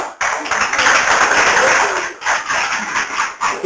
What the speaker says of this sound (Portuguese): palmas para o Senhor Jesus